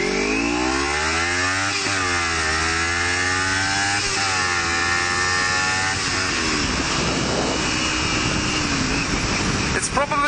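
Kawasaki Ninja 300 fitted with a Screaming Demon slip-on exhaust, ridden at speed on an open road: a loud, continuous engine drone with rising and falling revs and strong wind rush throughout.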